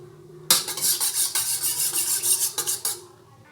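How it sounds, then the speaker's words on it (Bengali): A spoon stirs cornflour into a cup of milk, giving quick scraping clinks against the cup in a steady rhythm for about three seconds, close and clear. "এখানে আমি এক কাপ দুধ নিয়েছি দুধটার মধ্যে এক চামচ কর্নফ্লাওয়ার গুলে নেব"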